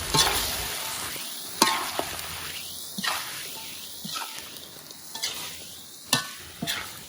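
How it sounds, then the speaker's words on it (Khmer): Chicken and bamboo shoots stir-fried in a pan: a steady sizzle with repeated scraping strokes of the spatula every second or so, close and moderately quiet, no talking. "ឆាត្រពាំងសាច់មាន់កូន"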